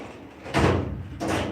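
A shallow drawer in a home workshop tool chest holding miscellaneous hand tools slides shut with a firm close, followed by a second softer rolling slide a moment later, with no talking.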